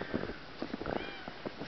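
A cat meows several times in quick succession outdoors in snow, short nasal cries close by with brief gaps between them.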